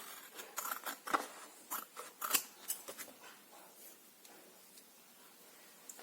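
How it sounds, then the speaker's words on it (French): Scissors snip off excess material in a quiet room, making a run of crisp, close cutting clicks in uneven bursts that thin out toward the end, with no talking. "Donc, je coupe le surplus."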